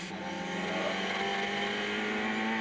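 Ford Sierra touring car engine at Mount Panorama, Bathurst, recorded from an onboard camera during the 1991 Bathurst 1000 race: a loud, steady, high-pitched engine drone held at speed with no gear change and no talk.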